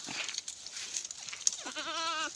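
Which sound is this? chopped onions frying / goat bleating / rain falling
goat bleating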